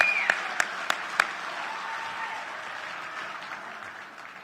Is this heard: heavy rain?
no